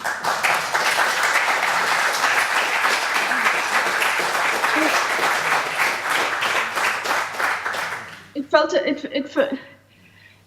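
Sustained applause from a crowd, dense steady clapping for about eight seconds, then it stops and brief muffled handling noises follow before near silence.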